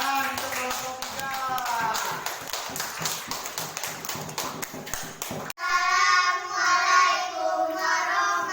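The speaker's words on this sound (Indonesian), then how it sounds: "kita beri tepuk tangan untuk kelompok 3" Classroom clapping for a student group, a quick patter of hands over chatter that cuts off abruptly into a sustained tonal sound with voices.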